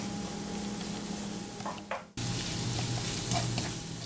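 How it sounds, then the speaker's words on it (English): Bell peppers stir-fried in a pan with black pepper, giving a steady close sizzle with stirring scrapes and a short pause partway through, no voices. "stir again."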